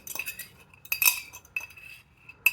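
Metal cutlery clinking inside a glass jar of apple pie moonshine, a few sharp, bright clinks spaced over a couple of seconds, close and fairly quiet.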